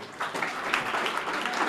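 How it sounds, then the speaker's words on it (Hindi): A school audience of young students clapping for themselves at a talk, a steady, dense round of applause that holds fairly loud throughout and stands alone without speech. "एक बार अपने लिए ताली बजा दो।"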